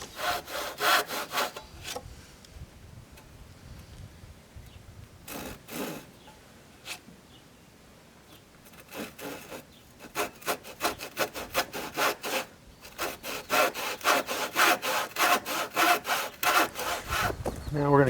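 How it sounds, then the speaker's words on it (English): A hand saw cuts through clamped wood in steady back-and-forth strokes, a close, rasping rhythm that pauses midway and then resumes faster and louder, with no talking. "Now I can clamp this down and cut to these lines"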